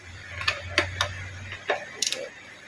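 Ratcheting clicks from a socket wrench fitted with a 12mm socket loosening a side bolt on an engine cylinder head, several sharp close ticks spaced unevenly over a low steady hum, with no talking.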